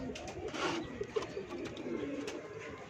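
A pigeon coos softly in low, repeated murmurs while being held in hand, close but quiet, with slight rustling of handling.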